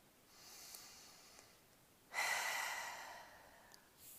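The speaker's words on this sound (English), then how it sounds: "take 2 or 3 breaths in and out" Two slow, deep breaths, close to the mic: a soft, drawn-out inhale followed by a louder, longer exhale that fades gradually, with no talking.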